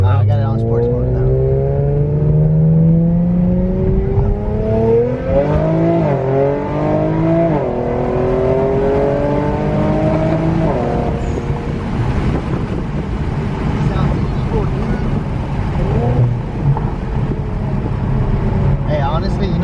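An Infiniti Q60 with new downpipes accelerating in sports mode, engine pitch climbing through rising sweeps with quick shift drops, heard loud from inside the cabin with wind noise and people talking over it.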